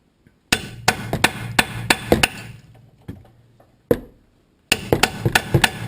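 A hammer taps a chisel in by the lower control arm of a 2012 Jeep Compass: sharp metallic strikes in quick clusters of several blows, a few isolated hits, then another rapid run, close and alone.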